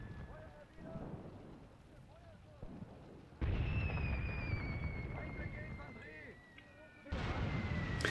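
Artillery shells land in bursts in Graviteam Tactics: Mius Front on the Eastern Front, with deep rumbling booms and a heavy roar that swells at several points, while someone speaks over the barrage.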